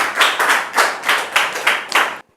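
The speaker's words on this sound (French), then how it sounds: "On peut le recevoir avec des applaudissements bien nourris." A small audience gives a guest a warm welcome with hearty clapping, heard close and loud in rhythmic bursts of hand claps that stop abruptly at the end.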